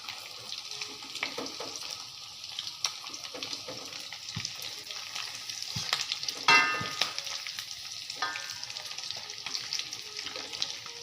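Chicken frying in hot oil, a steady close sizzle with scattered pops and crackles running throughout, plus a few brief clinks of a utensil stirring.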